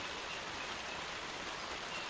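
Steady outdoor rain near freezing, mixed with snow, a dense even hiss of drops with no distinct hits, continuous and moderately loud with no voices.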